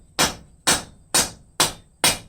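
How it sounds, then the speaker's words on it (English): Five evenly spaced hammer blows on hot angle iron being forged into a leaf, loud and close, each a sharp metallic strike with a short ringing decay. "And now I'm going to hammer down on this."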